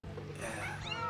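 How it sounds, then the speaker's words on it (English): Fluffy kittens meowing in a television episode, a brief run of high, wavering mews over a steady background, close and moderately loud. "What are they doing with the fluffy kittens?"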